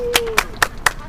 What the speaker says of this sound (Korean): 우리 박수 한번 부탁드립니다